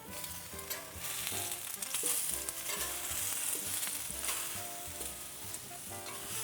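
Peaches sizzling on a grill after a quick flip, a dense continuous close sizzle with light stirring-like clatter, over background music and no talk.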